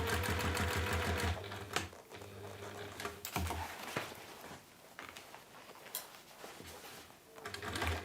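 A sewing machine stitching a bowling bag in short runs, with rapid rhythmic whirring broken by pauses and clicks, close by and fairly quiet.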